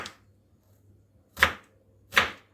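A knife slices a medium onion thinly lengthwise on a board, with two crisp, separate cuts close up against a quiet background.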